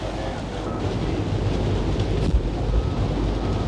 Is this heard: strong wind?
yes